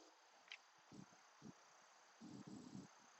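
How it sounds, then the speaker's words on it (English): Faint, steady insect chirring from crickets near water outdoors on a chilly evening, with a few soft low rustles and bumps close by. "You can hear the crickets,"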